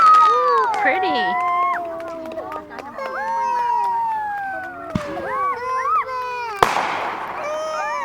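A small fireworks show sends out two sharp, loud bangs separated by a few seconds, with whistling and crackling between them, while people talk, shout and whoop excitedly throughout.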